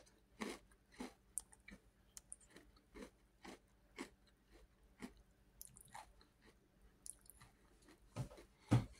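Crunchy chewing of Coca-Cola flavored Oreo cookies, close and quiet, with steady rhythmic bites and crunches repeating through the whole stretch and no talking.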